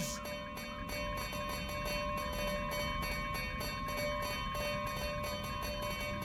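Locomotive bell in the train-driving game Derail Valley clanging in a steady rapid rhythm for several seconds, ringing tones over a constant rumbling engine and rail drone.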